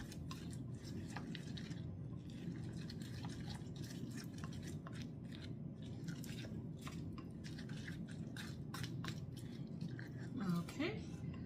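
A spoon stirs cinnamon through a mixture in a bowl, soft repeated scraping and light tapping strokes at a close, quiet level over a low background hum, with faint speech-like murmur in places.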